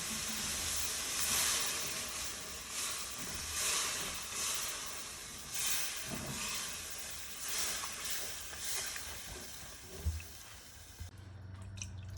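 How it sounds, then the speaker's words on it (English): Curry sauce with stock and flour bubbles and hisses steadily in a pot on the stove while being stirred, a continuous close sizzle broken by faint scrapes and drips. "Keep stirring until you get a nice texture with little to no lumps."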